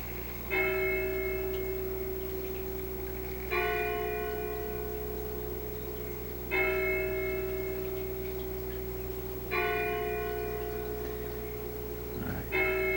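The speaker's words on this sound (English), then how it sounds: "The bell at the bell tower is going to sound it away." A tower bell in Disney's Magical Mirror video game tolls four evenly spaced strikes about three seconds apart, each ringing out and slowly decaying over a faint low hum, with no voices.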